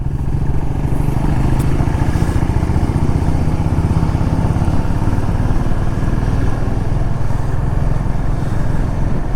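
Motorcycles ridden on the road, a Honda Highness 350 and a Himalayan 450, with a loud continuous engine drone and wind rush close up, steady throughout without any talk.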